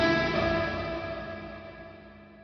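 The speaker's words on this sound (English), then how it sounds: "all you're going to do is you're just going to hear reverb" A guitar-like tone rings out and decays slowly in a long, washy reverb tail that fades away over a couple of seconds.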